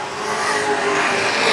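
Race cars finishing a heat race at Hythe Motor Speedway rush past with a loud, rising engine roar and slight tire noise, steady and near for the whole moment.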